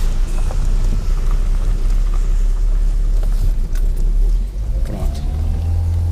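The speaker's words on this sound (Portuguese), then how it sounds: "Carro acelerando direto." A parked car's engine running on its own at constantly raised revs, a loud, steady, close rumble that dips briefly and shifts pitch slightly toward the end, with no talk.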